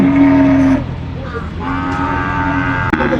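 Cattle at a Thai cattle and buffalo market in Ban Sawai: a loud, close, drawn-out moo is followed by a second, longer lowing call over steady market background noise.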